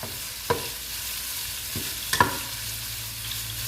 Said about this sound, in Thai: นี่คุณแม่ก็จะผัดสไตล์ง่าย ๆนะคะ แบบฉบับของแม่น้องเกชินีนะคะ